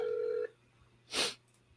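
A single short telephone keypad tone from a phone call, followed by a brief noisy burst, all fairly quiet and without speech.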